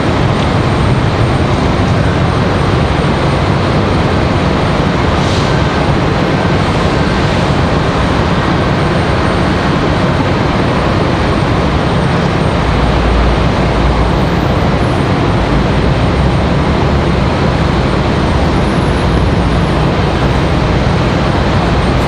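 An American Airlines airliner, flight 2693 departing Raleigh-Durham for Dallas, makes a loud, continuous jet roar that holds steady for over twenty seconds, close and unbroken, with no talk over it.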